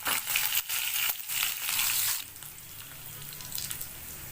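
Cumin seeds and broken dried red chillies fry in hot oil. A loud, close, crackling sizzle lasts about two seconds, then settles into a quieter steady hiss.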